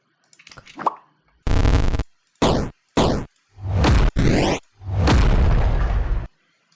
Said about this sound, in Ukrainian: Далі додаємо swoosh 1.